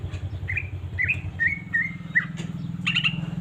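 A green leafbird (cucak ijo) in heightened breeding condition sings a run of short, bright chirps and whistled notes over a low steady hum. No one speaks.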